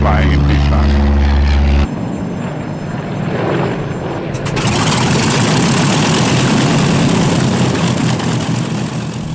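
A 1943 trainer aircraft engine runs loud and steady up close, a broad propeller drone holding constant after a short low rumble at the start.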